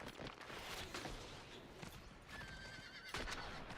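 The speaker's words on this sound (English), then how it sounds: "I don't know why I got on my horse." In a video game, a horse gives a short whinny near the end over steady hoofbeats and noisy game ambience, fairly faint overall.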